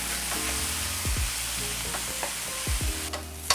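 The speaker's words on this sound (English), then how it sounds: "I wanna break the lamb up, and I wanna get this lamb browned really nicely" Ground lamb browning in a hot pan, a continuous dense sizzle throughout with a few soft scrapes from breaking up the meat; no talking.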